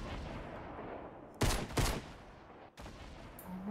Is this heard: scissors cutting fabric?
no